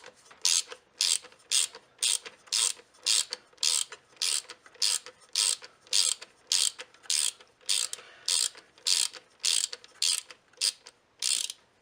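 A ratchet clicks rhythmically while backing out the screws holding a car's power steering fluid reservoir, with bursts of rapid clicking about every half second, close and loud, and no talk.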